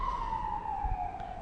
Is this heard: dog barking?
no